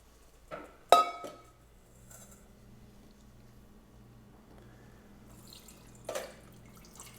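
Canned garbanzo beans drain in a quiet kitchen. A faint trickle and drips of water are punctuated by a few sharp metallic clinks of the can near the start and end.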